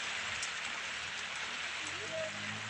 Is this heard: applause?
no